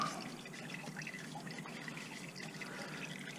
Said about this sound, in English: Alright, so the drain is pretty full. It's draining out.